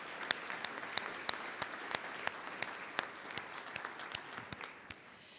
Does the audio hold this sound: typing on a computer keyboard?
no